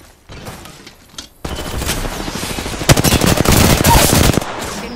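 Rapid automatic gunfire in Apex Legends, scattered shots building into dense, loud bursts that crackle on through the second half, with faint speech early on.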